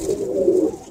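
Pigeons kept for breeding give a soft, steady cooing, one low murmuring call held close by for under a second.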